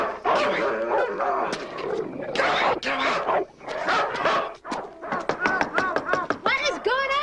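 A dog barks and yips repeatedly in a scene from a Christmas film set in the Smoky Mountains, sharp close barks in quick bursts, some whimpery, mixed with people talking.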